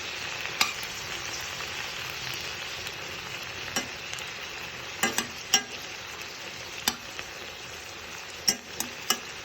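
Stuffed eggplants (bharwan baingan) sizzle steadily in a pan while being turned, the soft continuous frying hiss broken by a series of sharp utensil taps and scrapes, with no one speaking.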